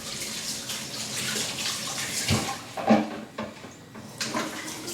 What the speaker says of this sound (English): I'm just gonna wash my fingers.